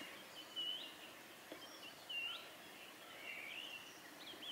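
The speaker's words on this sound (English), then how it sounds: "I hear all the birds." Faint, scattered bird calls in New Zealand, a few brief high chirps and whistles spaced apart over a quiet outdoor background.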